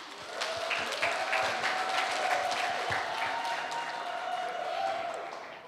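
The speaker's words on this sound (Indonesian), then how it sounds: "Mari kita berikan tepuk tangan yang meriah." Studio audience on a talk show applauds warmly: a dense, steady wash of many hands clapping, held evenly for several seconds with no voices on top.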